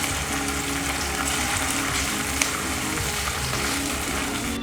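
Potatoes roast in hot oil in a pan with a steady, dense sizzle that stays loud and close throughout, without speech.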